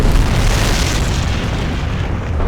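Continuous heavy booming of artillery explosions in the World War II strategy game Company of Heroes, during the Carentan counterattack mission, a loud rumbling barrage with no gaps throughout.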